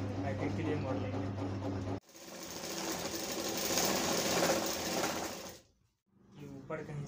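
Sewing machine stitching a kalidar jubba, running in a loud, close, steady whir for several seconds, then stopping briefly before starting again, with a voice heard at the start.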